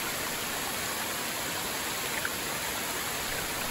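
A waterfall and rushing river make a dense, constant roar of water, loud and unbroken, with no voices or other sounds over it.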